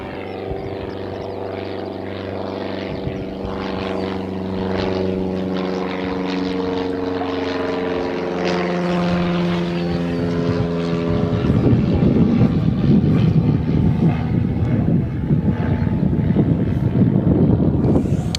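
An aircraft departing Bristol Airport for Geneva gives a long, loud engine drone with shifting tonal whine, then swells into a broad roaring rumble as it powers away, with wind buffeting the nearby microphone.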